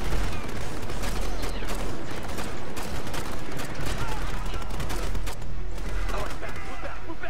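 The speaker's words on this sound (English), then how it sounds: "Well, I'm shooting this barrier." Dense, continuous gunfire from the Ghost Recon: Future Soldier game, rapid overlapping shots and bursts filling the whole stretch at high volume with no pauses.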